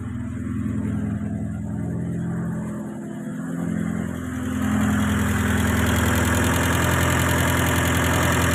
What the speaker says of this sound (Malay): Enjin pun saya dah start.